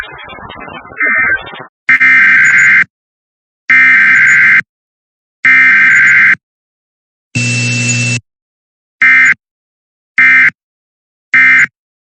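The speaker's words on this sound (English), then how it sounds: "This concludes the weekly test of the NOAA Weather Radio Warning Alarm." A NOAA Weather Radio warning alarm sounds from a broadcast: a loud run of synthetic electronic tone bursts, several long and then a few shorter ones, separated by dead silence.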